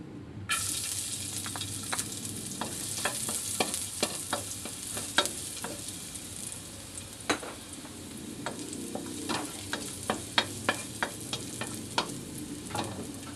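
Garlic sautéing in a pan for stir-fried string beans with glass noodles, a continuous close sizzle dotted with many crisp spatters and stirring clicks at an irregular pace, with no talking.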